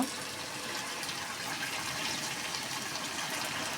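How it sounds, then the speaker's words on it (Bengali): Hot water gushes in a steady, close pour into a pot of braised meat, a continuous rushing splash with no voices over it. "এই গরম পানিটা দিয়ে দেব"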